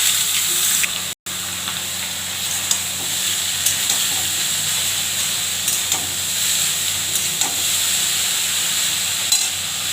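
Bharali fish frying in hot oil tempered with mustard seeds, nigella seeds and chili, giving a steady close sizzle and hiss that breaks off briefly near the start, then carries on evenly with faint stirring.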